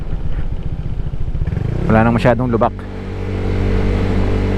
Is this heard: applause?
no